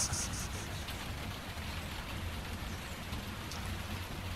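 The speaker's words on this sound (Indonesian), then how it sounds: "lalu tiba-tiba hujan sangat besar" Heavy rain pours down in Bandung, a dense, steady hiss of drops filling the air at a constant loud level with no voices.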